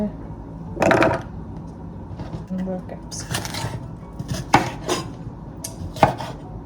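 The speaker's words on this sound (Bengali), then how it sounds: "সব কেটে নিই গাজর হয়ে গেছে" Carrots being chopped with a knife in a home kitchen, alongside chickpeas: a few sharp, separate cuts at an uneven pace, mixed with light dish clatter and low voices.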